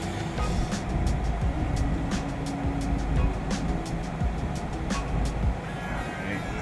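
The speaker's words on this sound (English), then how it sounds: "Waiting for these cars to pass by." Cars pass by on a road next to a stopped car, making a steady broadband rumble of traffic with faint scattered clicks over it.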